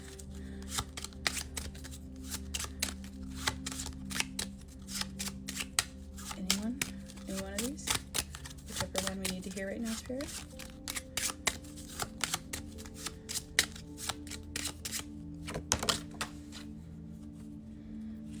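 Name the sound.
shuffling a deck of tarot cards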